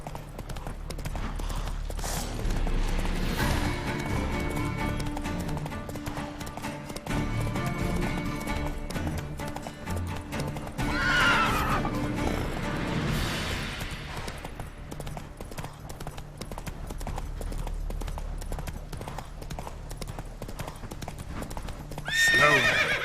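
Roach, the horse in The Witcher 3 video game, gallops with steady rapid hoofbeats close by, breaking into a whinny partway through. Faint game sounds run underneath.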